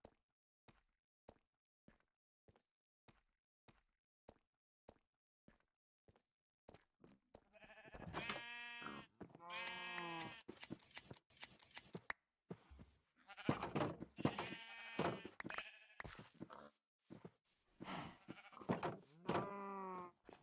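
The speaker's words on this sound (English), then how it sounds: "So let's take care of the sheep real quick." Sheep bleat repeatedly in Minecraft, several wavering bleats overlapping in the second half, preceded by a steady series of soft footstep clicks, all fairly faint.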